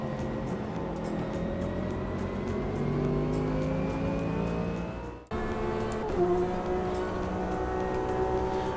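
Porsche RSR GTE race car engine at Watkins Glen in the Automobilista 2 sim, a loud sustained howl with rising and falling revs through gear changes and a brief cut near the middle.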